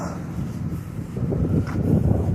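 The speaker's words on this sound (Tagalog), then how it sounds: "Mahangin." Low, steady wind rumble buffeting the microphone, growing a bit stronger toward the end, with no voices.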